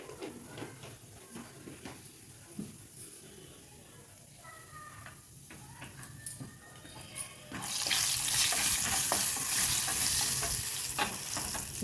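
Cumin seeds dropped into overheated oil for a tomato chutney burst into a loud sizzle that swells sharply around the eighth second, with earlier clinks and stirring scrapes over a steady frying hiss.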